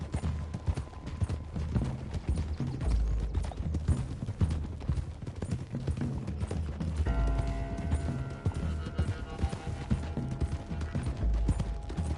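Several horses gallop in Red Dead Redemption, with rapid overlapping hoofbeats running continuously under faint game background sounds and occasional low thumps.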